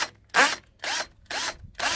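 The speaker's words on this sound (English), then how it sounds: "I have this on hammer drill." A hammer drill with a step bit bores into a plastic tote in four short, loud, gritty bursts separated by brief pauses, close up with no voices.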